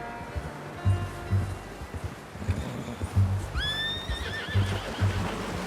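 A horse in the video game Red Dead Redemption 2 gives a loud, wavering whinny midway through, with rhythmic hoof thuds and soft low rustling around it.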